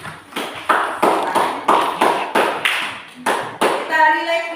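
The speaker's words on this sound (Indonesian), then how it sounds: "Tepuk tangan untuk kelompok." A classroom of students claps in unison for a group, with about ten sharp, evenly spaced claps in a steady rhythm, loud and close, followed by a brief stretch of voices.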